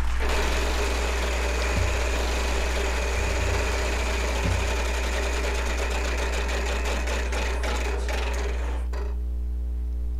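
Game show prize wheel spinning on Wheel of Fortune, a steady rapid clicking of pegs against the flapper that runs continuously and slows slightly before stopping near the end, loud and close with no talk.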